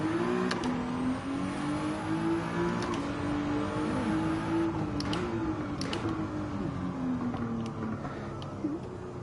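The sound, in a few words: car driving in the video game Gran Turismo 7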